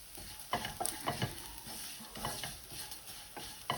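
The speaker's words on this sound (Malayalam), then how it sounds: "നമ്മുടെ കൊഞ്ച് ഫ്രൈ ഏകദേശം റെഡിയായിട്ടുണ്ട്" Dried prawns sizzle in a hot pan while a utensil stirs and scrapes them in uneven bursts, close and fairly quiet.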